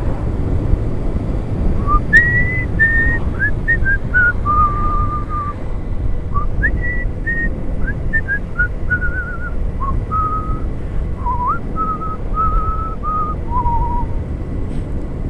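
A person whistles a song, a clear wandering melody of sustained notes and short phrases over steady wind noise outdoors.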